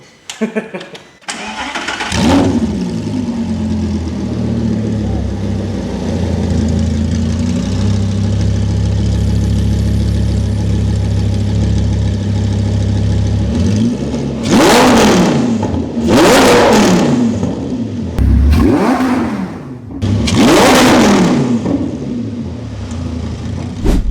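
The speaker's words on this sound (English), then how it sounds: "Lamborghini with no exhaust." A Lamborghini Gallardo with no exhaust fitted starts up and idles loudly, then gives several hard full-throttle revs that rise and fall close by, with people talking between the bursts.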